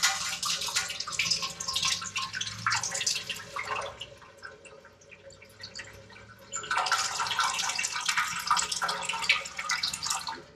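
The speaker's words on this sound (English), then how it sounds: "So I'm going to sanitize the fermenter, pour some star sand in here." Star San sanitizer solution is poured into an SS Brewtech brew bucket fermenter, a steady close splashing stream that eases off midway and then resumes strongly.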